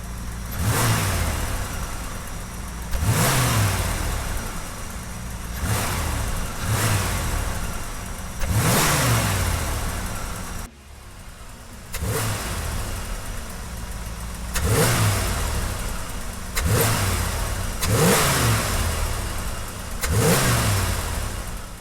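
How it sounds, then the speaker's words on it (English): Trans Am V8 engine fitted with an aftermarket open element air cleaner, revved repeatedly in a series of deep, throaty bursts that rise and fall over a steady idle, loud and close with no talking. "the open element aftermarket air cleaner has a much deeper and throatier tone because it's not as muffled like the factory one"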